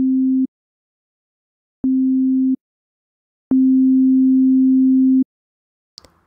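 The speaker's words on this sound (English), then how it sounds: "You can hear when I play these two sine waves that sound exactly the same." Pure sine tones from a phase-cancellation demonstration, heard as three steady, clean hums: two short bursts and then a longer one, separated by silence and followed by a faint click.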